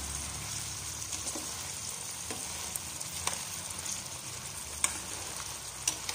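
Vegetables and halved green chillies fry in butter in a pan, a steady soft sizzle with occasional faint ticks and pops, close and alone without talk.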